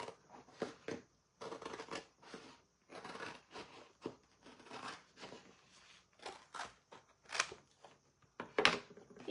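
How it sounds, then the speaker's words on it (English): Scissors cut slowly and carefully through a flip sign with no cut lines, giving a series of short crisp snips and rustles separated by brief pauses, close and fairly quiet. "So we are just gonna cut and be very careful when we"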